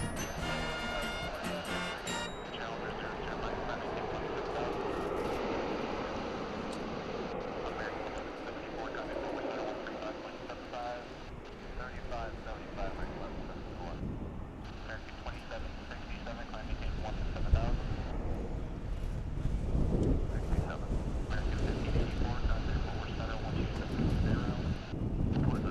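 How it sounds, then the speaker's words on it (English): An American Airlines Boeing 737-800 jet at DFW International Airport gives a steady, broad roar mixed with wind buffeting, swelling louder toward the end as it powers up, with a voice talking over it. "This American Airlines 737-800 winging its way, or about to wing its way"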